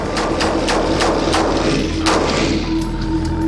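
Gunfire in a war setting, a rapid series of heavy booming shots with thudding impacts, loud and close, the blasts spaced in a quick uneven rhythm before a brief lull.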